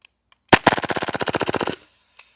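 A Vorsk VMP-1 gas airsoft submachine gun fires a single full-auto burst of about twenty rapid, evenly spaced shots lasting just over a second, close and loud, then stops abruptly; slightly sluggish from cold gas.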